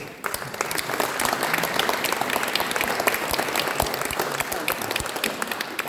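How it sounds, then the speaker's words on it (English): A public meeting audience about the Richborough tip closure applauds Ian and Rich, with dense clapping that rises quickly and keeps going steadily for several seconds without talk. "can I ask you to give a round of applause for Ian and for Rich?"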